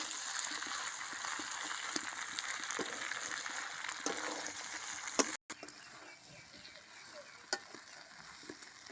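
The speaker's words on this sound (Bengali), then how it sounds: "আমার মাংসটা কষানো হয়ে গেছে, এবার জল দিয়ে দিলাম" Water goes into a pot of country chicken curry, bringing a soft bubbling and frying wash with scattered clicks and stirring knocks, fairly quiet and close, with a brief break midway.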